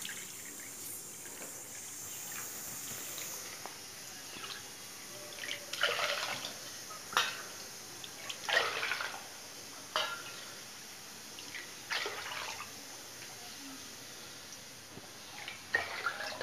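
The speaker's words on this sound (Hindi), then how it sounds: "अब हम इसी कटोरी से नाप कर पानी डालेंगे।" Water poured from a bowl into corn porridge (makka ki rabdi) being prepared in a kitchen pot, heard as several soft splashing and trickling bursts that come and go at moderate volume, with no talking.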